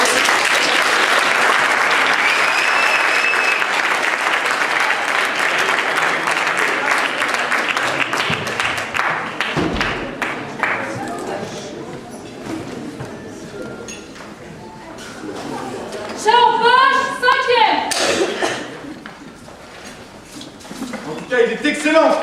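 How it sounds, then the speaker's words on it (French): A theatre audience applauds the 2013 graduating class at the end of a Feydeau comedy; dense clapping fills the first half and fades, then voices and other sounds take over. "je vous laisse applaudir une dernière fois la promotion 2013"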